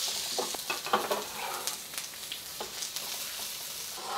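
Ginger and onions fry in hot oil in a home kitchen, making a steady close sizzle with crackly bursts and a few stirring scrapes, no voices.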